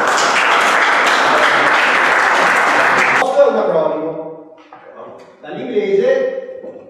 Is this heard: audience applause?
yes